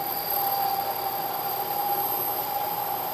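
A harsh, steady high-pitched ringing chatter from a lathe cutting a thin part persists throughout, fairly faint, with a constant whine and no pauses.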